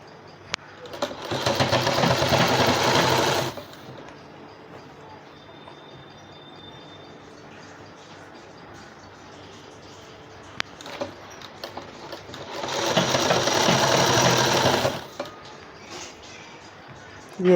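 A sewing machine stitches lace onto the edge of a strip for a baby cap, running in two loud sustained bursts of about three seconds each, separated by a long quiet stretch.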